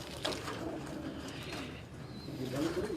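Pigeons coo softly on a rooftop loft, with low, rolling calls repeating over a constant background hum.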